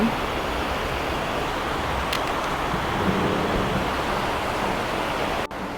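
A stream rushes steadily beside a riverside cafe, a continuous broadband wash of flowing water that stays even and fairly loud throughout, with no voices over it.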